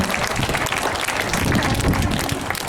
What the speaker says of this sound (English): give our volunteer a great big round of applause